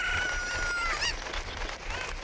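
A cucco chicken in Zelda: Ocarina of Time gives a few quick squawking clucks over steady game background sound, fairly close and moderately loud.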